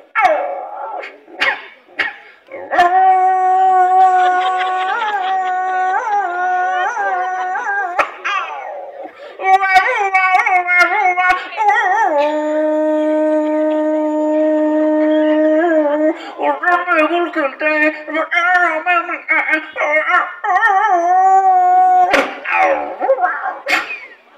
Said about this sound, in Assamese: এটি কুকুৰৰ পোৱালি এতিয়া কুকুৰৰ পোৱালিতে গীত গাব